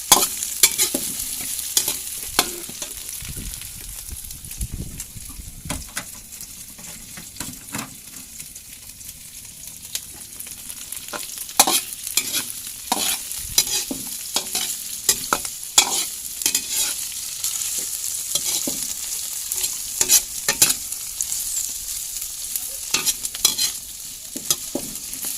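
Shrimp stir-fry in a hot pan, sizzling continuously while a utensil scrapes and clatters in irregular bursts. The sound is close and busy throughout, with no talking.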